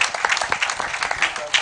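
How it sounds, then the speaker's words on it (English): An audience applauds after a panel session on producing TV shows at a film festival, a dense, even patter of many hands clapping at a moderate distance, filling the whole moment with no break. "Please, can we give them a resounding round of applause?"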